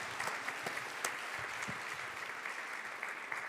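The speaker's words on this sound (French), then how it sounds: "on peut l'applaudir." Audience at a talk and meet-the-authors event applauding, a dense, steady roar of many hands clapping at moderate distance and holding even throughout.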